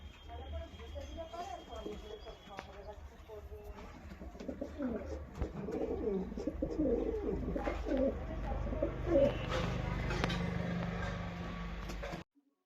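Pouter pigeons coo repeatedly in soft, low, throaty rolls, close by, over a faint rumble of distant traffic.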